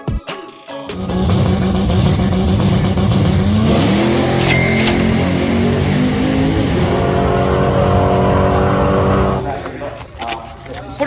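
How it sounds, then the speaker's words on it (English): A Lexus IS200 accelerates hard down the Sydney Dragway drag strip, its engine loud and close, revving up through rising gear pitches before fading away, with a voice briefly audible at the end. "Dean's about to go down there and tear a chunk out of the right-hand lane"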